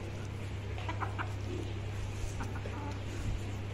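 Kadaknath hens on a small farm cluck in short scattered bursts over a steady low background hum, fairly close, with no talking.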